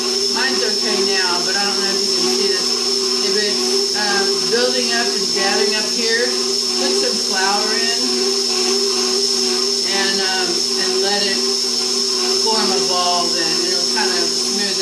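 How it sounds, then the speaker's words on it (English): A blender kneads five grain bread dough with a steady, loud whir and a high sustained whine that runs throughout, straining slightly as the dough gathers, while a person talks over it. "So the blender is trying to get it all gathered up."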